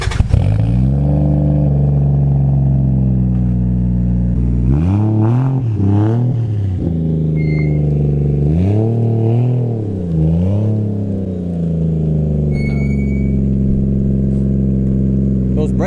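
A Nissan G35 with a swapped Toyota 1JZ engine idles loudly up close, then revs hard in a few sharp surges that rise and fall before it settles back to a rough, steady idle.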